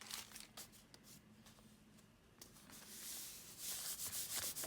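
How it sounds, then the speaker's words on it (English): Paper pieces in a junk journal are burnished flat by rubbing a plastic hotel key card over them, producing soft, close scraping strokes in irregular bursts that grow slightly louder toward the end. "Kind of burnish them down with this hotel key."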